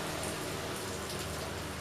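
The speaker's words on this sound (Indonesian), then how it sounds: "dan juga gerimis hujan masih terdengar" Light drizzle falling outdoors beside a busy main road, a dense, even hiss of rain pattering on surfaces, steady and close throughout with no voices.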